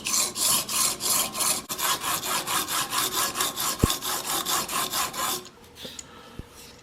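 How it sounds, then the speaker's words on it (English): Rhythmic back-and-forth strokes of a Swacker 252 broadhead blade on a 240 grit sharpening surface, a steady scraping rasp repeated roughly every third of a second, close and alone, ending with a few quieter scrapes and clicks. "I started sharpening on this side of the blade"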